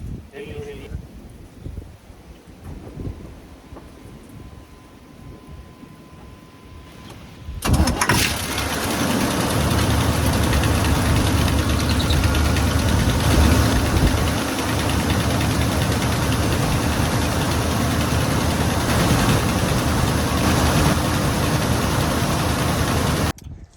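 A 1984 Chevrolet Suburban engine cranks and catches after a quiet stretch with some talk, then settles into a loud, steady, rough idle that runs close by to the end.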